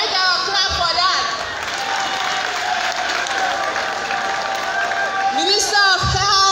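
A crowd at a Liberian public health regulatory authority event claps steadily and loudly, with scattered cheers and whoops rising over the dense applause, plus a voice cutting in near the end.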